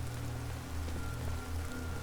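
Steady rainfall in Skyrim under overcast, cloudy skies, a soft continuous patter with no voices.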